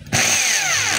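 A DeWalt D25033 rotary hammer starts abruptly and runs at a loud, steady whine, close up, for about a second with no voices.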